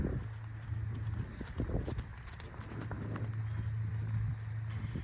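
Hooves of a horse being lunged in a circle thud in a soft, steady clip-clop rhythm at moderate distance, with a low engine-like hum in the background.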